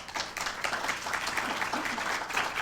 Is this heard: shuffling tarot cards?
no